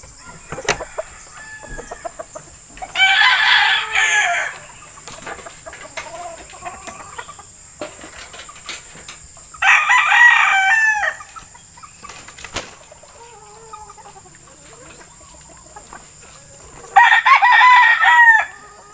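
A yellow-legged Dutch gamefowl rooster crows loudly and close by three times, each crow a few seconds long with long quiet stretches between, set against faint background clucking and ambient farm sound.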